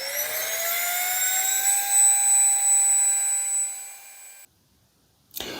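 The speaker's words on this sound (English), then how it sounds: "take the pump and put it on one of the nozzles, and I'm going to inflate a pad" A small portable Lanney electric air pump drones steadily and loudly while inflating a thick sleeping pad, its whine rising slowly in pitch as the pad fills, then cutting off abruptly into silence before a brief sound resumes.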